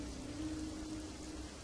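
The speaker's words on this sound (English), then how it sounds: "It was a lot of rain. Sheets and buckets and torrents of it, in fact." Heavy rain pours in a dense, steady hiss throughout a narrated horror story, even and unbroken with no voices over it.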